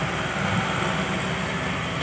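A Komatsu PC60 excavator's four-cylinder diesel engine runs steadily up close, a continuous low rumble with no break while loading dump trucks.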